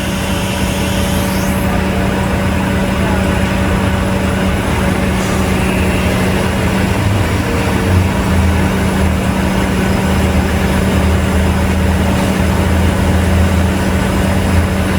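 Two cranes running while lifting a load into position, a steady, loud, continuous engine drone with a deep low hum that holds throughout.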